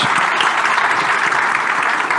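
A ballroom crowd at a Texas child-advocacy awards gala applauds sponsors, loud and continuous clapping from many people, sustained across the whole moment without talk.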